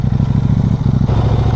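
A KTM 700 Duke motorcycle idles close by with a lumpy, throbbing single-cylinder beat, loud and steady with slight mechanical clatter, with no talk.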